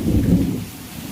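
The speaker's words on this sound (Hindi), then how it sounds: "इतनी तेज़ बारिश हो रही है" Heavy monsoon rain pours down as a deep rumble of thunder rolls and then fades over about a second. The downpour keeps up a steady roar, and no voices are heard.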